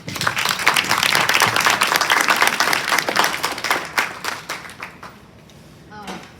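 An audience breaks into sustained applause to welcome a speaker, a dense, loud wash of clapping that thins out and fades after about five seconds, followed by a brief voice.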